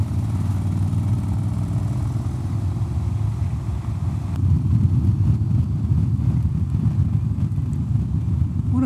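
A Honda X-ADV motorcycle rides along a road, its engine giving a steady low droning hum that grows slightly louder midway, mixed with wind rush from riding, continuous and close with no talking.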